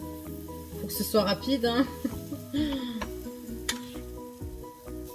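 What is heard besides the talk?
yogurt pancake batter sizzling in frying pan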